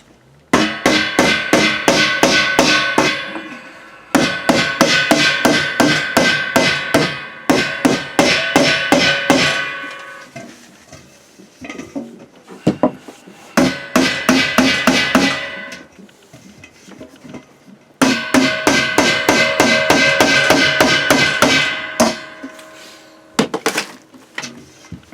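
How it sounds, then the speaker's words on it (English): Rapid hammering on metal fire stove parts in several long bursts of sharp, ringing blows, close and loud, with brief pauses between rounds. "I can actually hammer them down a little bit."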